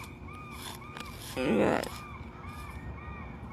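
A seagull calls harshly and close, one loud caw rising over a steady background hum, with fainter repeated cries nearby as it is fed cheap dark tuna outdoors; a person speaks briefly.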